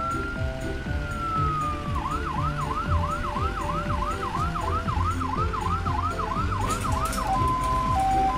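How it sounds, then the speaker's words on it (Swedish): An ambulance siren in a Swedish cartoon wails with a steady tone and then switches to a rapid, repeating yelp, loud and close over a background of cartoon music and engine-like rumble. "Om det uppstår en nödsituation sätter den på sina lampor och sin siren."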